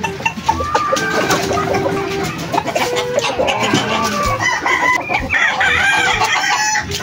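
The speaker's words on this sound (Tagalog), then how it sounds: "Medyo madami-dami kasi siyang manok." A large flock of chickens and roosters, including white Kelso fowl, clucks busily and crows repeatedly, loud and close, with overlapping calls throughout.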